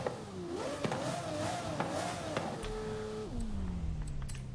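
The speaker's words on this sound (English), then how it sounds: "I just like revving cars in here" A Lamborghini Diablo SV built as an off-road car in a video game revs up, its engine pitch climbing and wavering through several throttle blips, then settling into a lower steady drone as the revs fall away.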